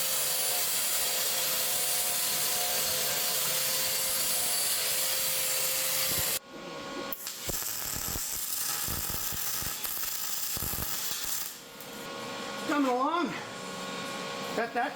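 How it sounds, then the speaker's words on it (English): Rotted steel on a Jeep TJ frame is ground: a loud, steady grinding hiss runs for several seconds, then cuts off, followed by quieter scraping, handling noises and an intermittent whirring tool. "Now we just got to do some grinding."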